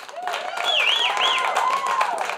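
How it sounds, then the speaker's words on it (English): Comedy club audience breaking into steady applause with a few whoops and whistles rising over the clapping, a full crowd sound, moderately loud throughout. "Round of applause if you don't have kids."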